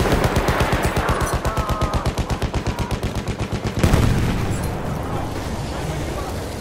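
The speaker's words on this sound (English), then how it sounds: "There's a machine gun." A machine gun in Battlefield 1 on the Cape Helles map fires a rapid, evenly spaced burst for several seconds, then a heavy explosion booms and rumbles away, loud and close.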